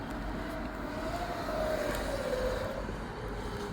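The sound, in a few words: dirt bike engine, rider doing a wheelie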